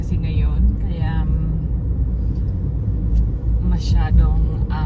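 Steady low road-traffic rumble from passing cars on a tree-lined shortcut road, a continuous drone throughout with brief brighter swishes as vehicles go by, while a person talks over it at moments.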